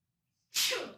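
One loud, close sneeze erupts suddenly out of near silence, a short explosive burst that fades quickly.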